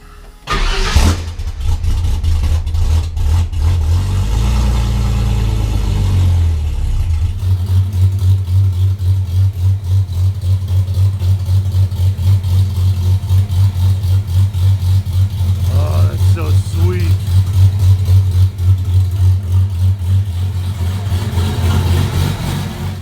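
A Ford Thunderbird Super Coupe engine cold-starts loud and close: a cranking whir, a catch, a few seconds of high revving, then it settles into a strong steady idle with small throttle blips.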